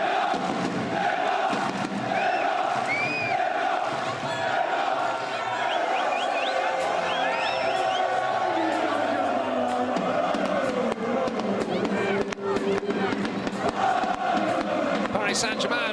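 A packed stadium crowd at Parc des Princes in Paris roars and chants with Brazilian flags waving, a dense sustained din with whistles and shouts rising throughout, while a voice talks over it.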